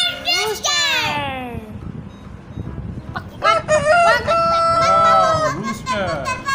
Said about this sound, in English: R for rooster.